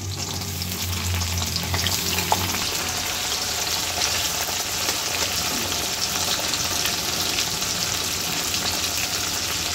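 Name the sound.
onion frying with green chillies for upma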